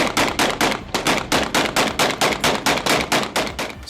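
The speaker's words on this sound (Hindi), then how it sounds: "कुछ इलाकों में जश्न में गोलियां भी चलाई गईं" Celebratory gunfire rings out in the streets of Damascus as a rapid, evenly spaced run of loud sharp cracks, roughly four per second, continuing without pause and with no voices over it.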